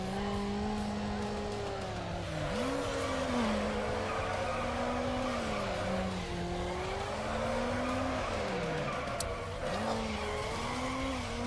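A Mazda MX-5 drifts in the Need for Speed Underground racing game, its engine droning and rising and falling in pitch while tires squeal in long sliding bursts, loud and continuous without talk.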